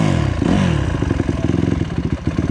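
Honda CRF 150 dirt bike engine close and loud, with a quick rev rise and then a choppy, pulsing run of throttle blips over two and a half seconds.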